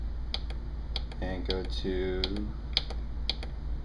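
Arrow key buttons pressed on an Akai MPK25 MIDI controller give a handful of sharp, separate clicks, spaced irregularly through the clip, under and around a man's speech.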